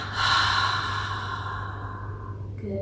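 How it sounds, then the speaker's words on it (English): A slow, deep breath in and out through the mouth during a calm self-love meditation, heard as a long soft airy exhale that fades gradually over a low steady background hum, with no speech. "we are going to breathe out through our mouth while releasing our shoulders"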